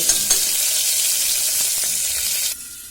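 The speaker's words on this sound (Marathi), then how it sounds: "ते चांगले तेलात परतल्यावर त्याची चव खूप छान लागते. आधी ते चांगले तेलात परतू द्यायचे." Stuffed round okra fries in hot oil, a dense, steady, close sizzle with faint stirring clatter that drops off sharply near the end as though the pan is covered, and no voices.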